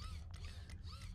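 Gun reloading in the zombie shooter Zompiercer: a quiet run of mechanical clicks and ratcheting metal movements, low in level over a steady game hum, with no voices.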